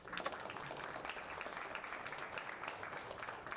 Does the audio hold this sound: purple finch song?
no